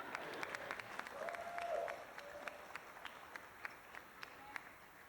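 Scattered claps from wedding guests at a toast in a mansion reception hall, a few distinct sharp hand claps over a quiet room with a voice talking briefly early on.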